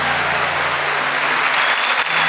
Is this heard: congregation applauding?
yes